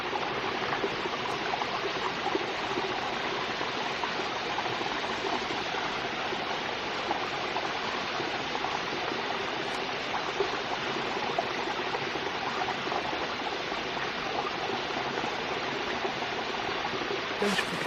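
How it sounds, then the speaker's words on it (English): A continuous rushing roar of falling water, steady and broad, heard from a moderate distance with no voices. "There's waterfall number 6 up there."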